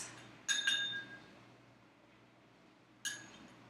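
Bright ringing clinks of a spoon against a little glass as a spoonful of honey is added, one cluster of two quick taps, then a pause and another single clink, close by with no talking.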